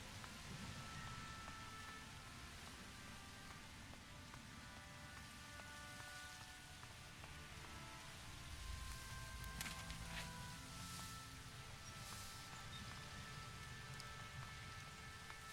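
Steady rain in the fantasy role-playing game Risen, a continuous hiss of drops pattering on surfaces with a low rumble swelling briefly in the middle, no voices.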